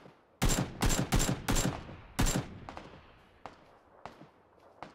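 Rapid bursts of gunfire in the battle royale game PUBG, a quick run of loud close shots followed by several sharper, sparser single shots at irregular intervals.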